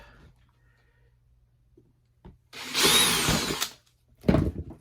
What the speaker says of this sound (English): I'm just going to drill some holes at various points